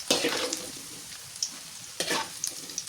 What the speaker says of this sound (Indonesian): di sini aku goreng 2 kali ya, karena tadi masih ada sisaan si tempenya belum kegoreng semua.